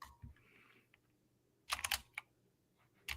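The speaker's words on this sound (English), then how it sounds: "Oh, Fowler's typing. Can't you tell by the obnoxious clicking?" Loud, clattering clicks of a computer keyboard come in quick clustered bursts with pauses between, close to the microphone during a coding session.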